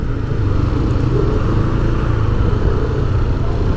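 Steady, loud street traffic with trucks and motorcycles rumbling continuously on Ronquillo Street in Binondo, Manila's Chinatown, a close, unbroken engine drone without speech.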